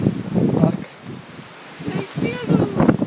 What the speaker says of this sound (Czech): ohromný vítr nám tady fouká